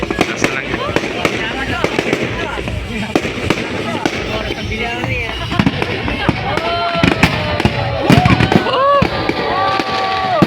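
Fireworks crackle and pop in rapid bursts at a Chinese New Year display on Boracay Island, Philippines, with whistling streaks rising and fading, while people talk and react nearby.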